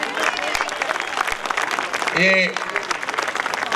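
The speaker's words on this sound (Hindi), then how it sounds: "क्या आप लोगों को नहीं लगता कि ये नाइंसाफी थी इतनी कम तालियां बजा करके?" Audience applause rises at an ex-servicemen program, lively clapping under someone speaking into a microphone, fairly loud and continuous through the short stretch.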